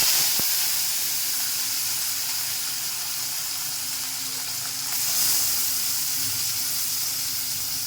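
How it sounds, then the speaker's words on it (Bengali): Small mola fish fry lightly in hot mustard oil in a wok, giving a continuous close sizzle and hiss that swells slightly partway through, with no talking. "হালকা হালকা ভেজে নেব।"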